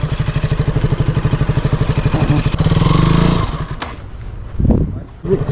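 A motorcycle engine chugs loudly and close in a rapid pulsing rhythm as the bike turns around, then it eases off to a lower idle with a brief rev near the end.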